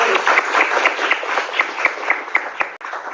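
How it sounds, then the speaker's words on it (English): An audience at a Web3 talk applauds a speaker named Elise, sustained clapping with distinct individual claps standing out throughout, fairly close and steady until a brief dip near the end. "applause to Elise"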